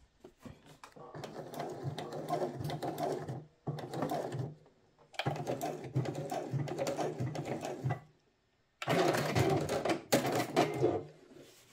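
A sewing machine stitches a diagonal seam across a trouser pocket opening, running in steady rattling bursts separated by brief pauses, loud and close with no talking.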